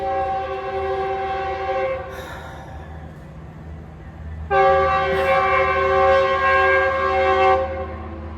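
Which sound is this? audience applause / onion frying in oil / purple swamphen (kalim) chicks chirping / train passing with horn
train passing with horn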